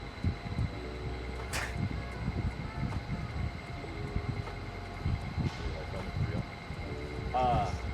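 A shop fan driven on 3D-printed filament propellers runs with a steady mechanical whir and hum, overlaid by tonal whine, with people talking and handling sounds intermittently over it.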